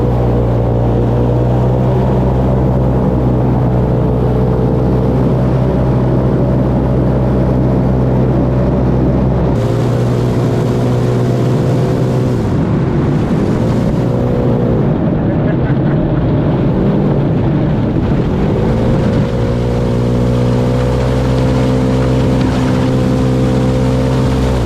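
Junky airboat with an aircraft-style propeller engine running across rough lake ice, a loud, steady drone that shifts pitch as it revs and slows, with no talk.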